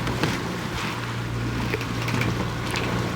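Sailboat getting under way after the anchor is raised, a steady loud low hum of motor and water wash with wind noise, continuous and close.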